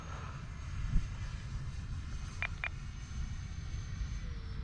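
An FMS F-16 64mm electric ducted-fan RC jet passes at half throttle into the wind, a faint distant whoosh under steady wind noise, with two short high beeps partway through.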